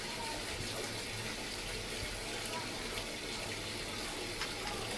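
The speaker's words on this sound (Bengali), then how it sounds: "এই আমরা এখন বলক উঠছে, এখন আমরা দুধটা ঢেলে দিলাম।" Milk poured into a boiling pot of pulao, giving a steady liquid gush and bubbling over a continuous kitchen background for several seconds.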